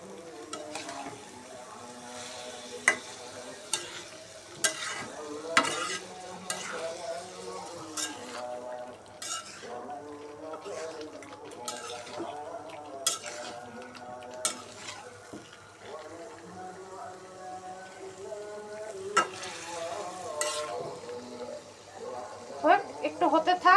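Marinated beef being stirred and fried in a large wok, with continuous sizzling and repeated scraping, clattering strokes of a utensil against the pan throughout, close and fairly loud.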